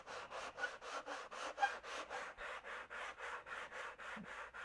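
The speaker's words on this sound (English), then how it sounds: "we're going to keep sanding until I hear the sound change" Hand sanding of a Tucker XL aircraft wing, a steady back-and-forth rasp of about sixteen even strokes, close and fairly quiet with nothing else over it.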